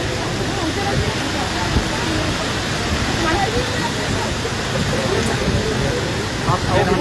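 Heavy rain pours steadily outdoors during a flood, a dense continuous wash of broadband noise with no clear pauses, loud and close.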